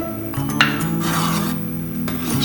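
Rice kheer with raisins, walnuts and almonds stirred in a pot, giving a steady close scraping and rubbing sound with a low continuous hum underneath and no talking.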